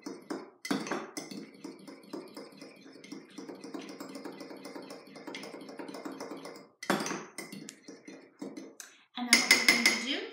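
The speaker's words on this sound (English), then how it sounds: "Then I take a fork and I whisk the whole thing up." Fork whisking an egg, salsa and cheese mixture in a mug, a fast steady clatter of metal tapping against the mug, close and moderately loud, with brief pauses and sharper clinks near the end.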